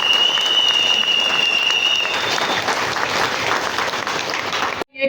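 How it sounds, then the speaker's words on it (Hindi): Loud, sustained applause from a large audience honouring the staff at a physiotherapy welcome event in Pithoragarh, steady dense clapping for nearly five seconds before cutting off abruptly. "तो एक हमारे स्टाफ के लिए भी बहुत जोरदार तालियां"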